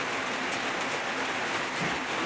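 Rain falls steadily outside a small shop, a dense and even hiss with no breaks and no voices.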